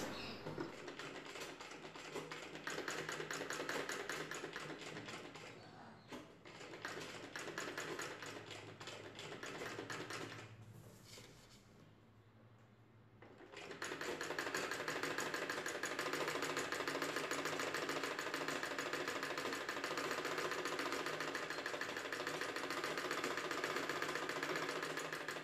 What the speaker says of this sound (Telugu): ఈ క్రాస్ పీస్ని ఇలా డబుల్ ఫోల్డ్ చేసుకొని నెక్ పైవైపున పెట్టి కుట్టు వేసుకోవాలి